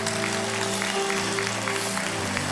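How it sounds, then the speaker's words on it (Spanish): A standing church congregation gives a loud, sustained ovation, continuous clapping spread over a few seconds while held musical chords ring beneath it. "Iglesia, ponte de pie y da el más fuerte aplauso del día."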